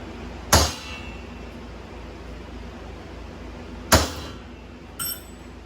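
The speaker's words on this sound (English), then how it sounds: "I don't have to use a hammer that big" A big hammer strikes metal three times: two loud, sharp clangs about three seconds apart, then a lighter third hit, close by and with no talk over them.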